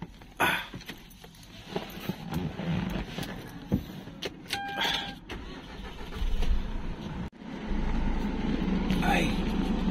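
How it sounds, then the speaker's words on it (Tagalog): A parked car's engine is started outside a restaurant in Tagaytay. Clicks and rattles come first, then a burst of starter and engine noise settles into a low idle, with someone talking over parts of it. "pandarin na natin yung sasakyan kasi para lumamig na pagpasok ng mga bossing"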